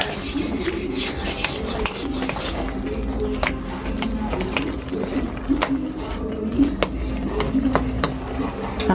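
Egg being stirred into squid sarciado in a pan, heard as a continuous rubbing, scraping spatula rhythm over a soft simmering sizzle, with intermittent clicks against the pan, close and fairly loud.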